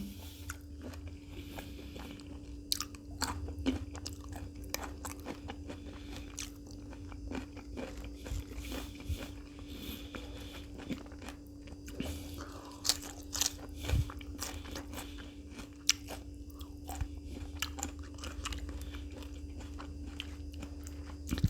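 Close, quiet chewing of a spicy Thai pounded stink bean and fresh shrimp salad with fermented fish sauce, eaten with vegetables: repeated crisp crunches and wet bites in an irregular rhythm, with no talking.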